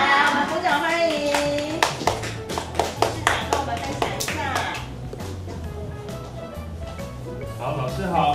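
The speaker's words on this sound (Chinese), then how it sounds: "我们鼓掌欢迎。" Schoolchildren and the audience clap together in a welcome, quick sharp claps rising over a busy room while voices and chatter carry on beneath.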